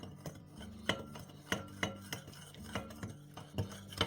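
A spoon clinks and scrapes around a bowl as juice is beaten into a chocolate glaze for an egg-free, milk-free cake, with sharp ringing taps and scrapes at a quick, uneven rhythm, close and quiet.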